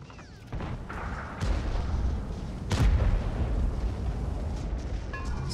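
Tank cannon shots in the video game World of Tanks, with several booming blasts, one around the middle standing out loudest, over a continuous game rumble, alone without speech.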